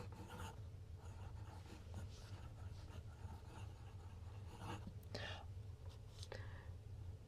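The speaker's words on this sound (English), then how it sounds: "It also sounds like I'm writing with a pencil." A vintage JC Penney celluloid fountain pen with a fine nib scratches across paper in short strokes and light taps, a dry pencil-like scraping, close and quiet against faint background hum.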